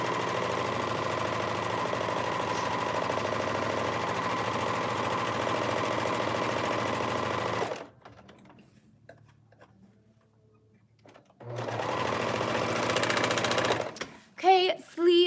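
A serger sewing machine stitches the sleeves of a shift dress with a steady, dense whir that runs for several seconds, cuts out into near-silence, then starts up again.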